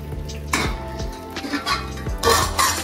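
Washed lentils being added to a cooking pot in a home kitchen in West Bengal: a few close, sharp metallic clinks and clattering bursts of utensil against pot, with soft scraping in between and no talking.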